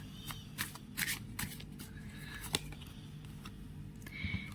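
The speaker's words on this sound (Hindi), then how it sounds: "एक लास्ट कार्ड जरूर निकालना चाहेंगे हम" Tarot cards being shuffled and drawn during a reading: soft papery riffles and slides in irregular bursts, with sharper card snaps along the way, set against a steady low room hum.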